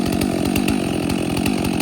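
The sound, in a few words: chainsaw cutting a fallen oak tree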